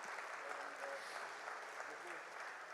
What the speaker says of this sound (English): Can we hear a round of applause and a huge cheer for Mr.